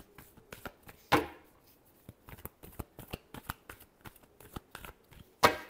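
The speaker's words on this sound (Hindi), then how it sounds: "last shuffle" A deck of tarot cards is shuffled up close in a quick series of soft riffling taps, with two sharper bridge-like flutters standing out.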